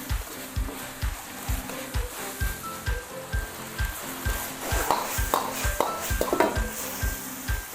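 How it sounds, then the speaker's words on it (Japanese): Chinese-style basil minced pork stir-fried in a pan, with steady sizzling and rhythmic scraping strokes of a spatula, loud and close, continuing without pause. "これちょっともうちょっとしっかりとこう炒めてね"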